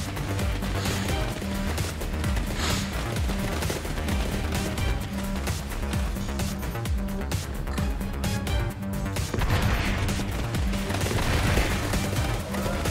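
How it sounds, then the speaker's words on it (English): Dense, continuous gunfire from many guns in the game Forts forms a loud, unbroken barrage of overlapping shots that swells slightly near the end. "Those are quite a lot of guns you have going here."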